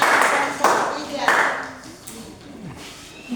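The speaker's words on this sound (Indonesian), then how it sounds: "tepuk tangan buat kelompok 2" Applause breaks out for a student group in an Indonesian classroom, with short bursts of clapping from several people mixed with nearby voices, then fading as talk carries on.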